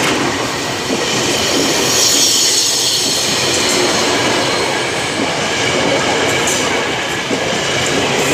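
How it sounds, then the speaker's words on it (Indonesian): An Indonesian KRL electric commuter train rumbles loudly into a station, wheels squealing and clattering on the rails as it rolls in close by. "KRL Belang masuk jalur 1."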